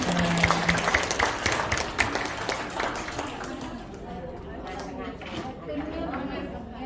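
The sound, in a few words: audience applause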